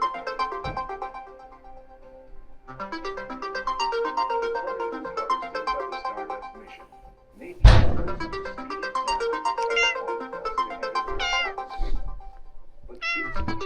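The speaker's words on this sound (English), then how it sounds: "Good morning, Kitty." A pet cat meows several times over about fourteen seconds, close and clear, with short pauses between calls and a sharp thump partway through, during a quiet early-morning stream at home.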